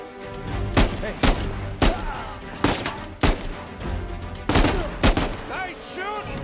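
Gunfire in the video game Uncharted 4 during a black market auction heist: loud, sharp shots about every half-second to second, with a couple of quick bursts, over a busy game backdrop.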